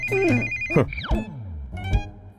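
A mobile phone ringtone plays a bright, warbling electronic melody with sweeping tones, moderately loud and alone, in a dramatic film scene.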